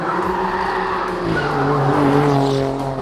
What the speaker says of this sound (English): the exhaust opens up to unleash that beautiful V6 sound.